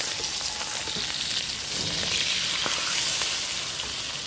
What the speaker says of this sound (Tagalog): Dahil lagay na natin yung salmon. Hayaan lang natin na mag-golden brown yung salmon.